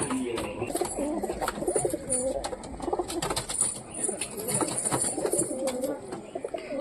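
Pigeons coo steadily nearby, soft throaty calls repeating over a busy background of other birds chirping.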